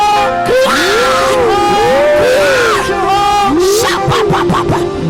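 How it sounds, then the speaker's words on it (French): A church congregation at a Sunday worship service shouts and cries out loudly together on command, a dense crowd roar of overlapping voices with rising yells, sustained and close for several seconds. "J'ai dit crier fort."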